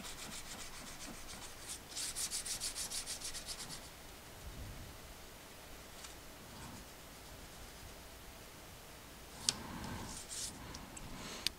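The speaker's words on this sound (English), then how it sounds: "I like to do a quick pass across the surface, and what this is going to do is level out any high and low spots" Sanding block with coarse grit paper rubbed across metal castings for a model railroad diamond crossing kit, giving quiet, rhythmic scraping strokes close by with brief pauses and a few small ticks.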